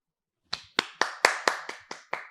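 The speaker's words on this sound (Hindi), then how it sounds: "तालियां." Eight sharp, evenly spaced hand claps from a single nearby person, each crisp and ringing briefly, starting after a moment of silence with no talking over them.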